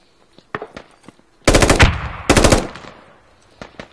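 Close automatic gunfire in the Squad tactical shooter game comes in two loud bursts, with scattered single shots and faint clicks before and after.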